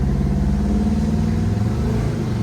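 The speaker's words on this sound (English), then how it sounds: "sounds perfect with the straight pipes coming out of the small block Chevy engine" A deep, rumbling small block Chevy V8 in a 1964 Chevrolet Malibu with open straight pipes burbles steadily and loudly throughout, as if cruising along a road.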